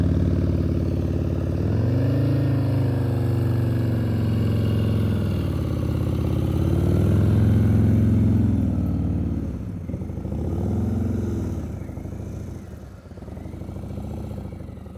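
A motorcycle creeps along at slow speed during a riding skills practice session in New Jersey, its mid-pitched engine puttering steadily and rising and falling gently with throttle and clutch work, fairly close.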